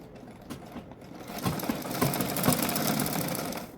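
A sewing machine stitches a blouse seam along the shoulders, starting with a few soft clicks and then building into a steady, loud, close-up rhythmic whir.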